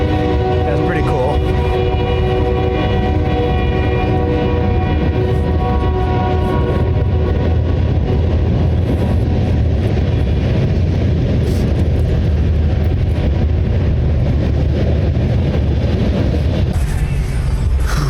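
Union Pacific train passing nearby, a long steady rumble with sustained horn-like tones early on, continuous and loud throughout, with voices faintly present underneath.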